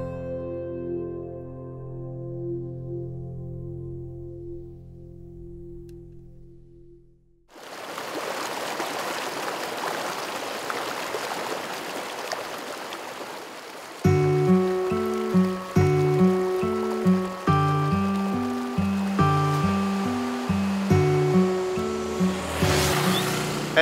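A river's flowing water makes a steady, dense rushing wash in the middle of the stretch, with music before it and music playing over it afterward.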